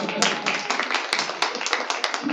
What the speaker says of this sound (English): you can clap for her